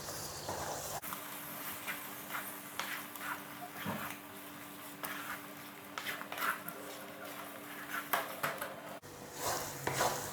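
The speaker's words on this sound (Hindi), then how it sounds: "इसके अंदर जो मसाला पेस्ट किया था वो ऐड करेंगे और अच्छी तरह मिक्स करके पकाएंगे" Spice paste is stirred into a ridge gourd (turai) curry in a pan over a medium flame, with repeated soft scraping and clinking of a spoon against the pan under a low, steady hiss.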